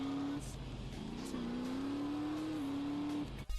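A motorcycle engine in Grand Theft Auto San Andreas drones steadily, its pitch rising and dipping slightly as the bike rides along at a constant, moderate level.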